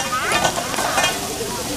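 Fish boil pot boiling over outdoors in Door County, Wisconsin: a sudden loud, steady hissing roar of flaring water and fire that fills the whole moment, with faint voices under it.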